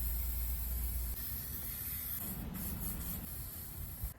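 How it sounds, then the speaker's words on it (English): A steady, close aerosol hiss sprays continuously, with a brief change in tone partway through and a few short sputters near the end. "now I just have to spray the clear, like, sealing coat on"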